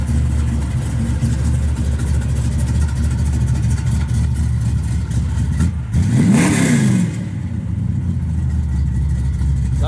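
Up close, a 1970 Dodge Dart Swinger with a hydraulic roller cam idles with a loping rumble, then gets one quick blip of the throttle that swells and falls back to idle.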